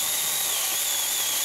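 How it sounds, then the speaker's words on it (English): A cordless 26-volt 4-inch mini chainsaw cuts through a branch offcut, giving a loud, steady high-pitched motor whine with a slight wavering pitch as it works through the wood. "let's have a go and see if we can saw through this offcut of a branch"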